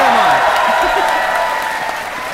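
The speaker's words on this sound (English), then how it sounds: "Everyone cheer him on, come on. Cheer him on." A convention audience at a Final Fantasy XV gameplay showing at PAX West 2016 claps and cheers loudly and steadily while voices carry over the crowd.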